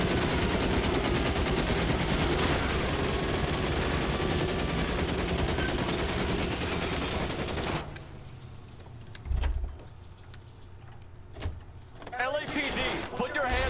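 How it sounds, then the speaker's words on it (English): Dense, loud gunfire and car noise from the video game L.A. Noire, with someone talking over the racket, which then drops to a quieter stretch marked by a few sharp shots and bangs. "Oh, I wish they would quit firing that damn gun."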